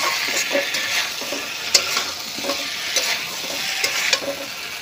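Potatoes and eggplant stir-fried in oil in a wok, a steady close sizzle with repeated scraping and clinking strokes of the spatula against the pan at an uneven rhythm, with no talking.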